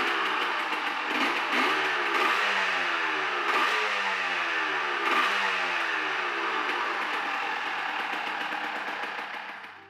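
A restored classic motorcycle with a two-stroke engine runs and revs in rising and falling sweeps, buzzy and close, then fades slightly at the end, no voices present.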